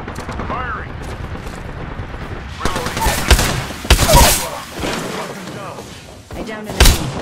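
Gunfire in Apex Legends, the battle royale shooter, cracks out in several sharp, loud bursts mixed with thumps and game effects, while voices talk over the action.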